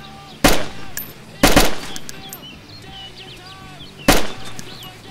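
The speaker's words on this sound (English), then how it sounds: "I guess it's because you're shooting" Three loud gunshots ring out in the video game DayZ, two close together and a third after a pause, each sharp crack trailing into a short echo over a quiet outdoor background with faint chirps.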